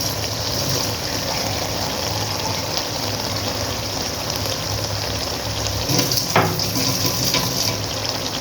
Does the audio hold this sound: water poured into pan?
yes